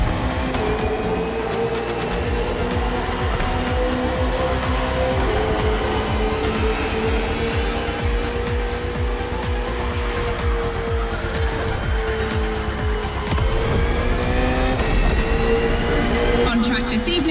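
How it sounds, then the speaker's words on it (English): Racing engines of a KTM RC16 and a Ferrari 488 GT3 on a circuit in a video game, a steady loud drone with shifting pitch sweeps and occasional tire noise, continuous throughout. "On track this evening, the KTM RC16 takes on the Ferrari 488 GT3."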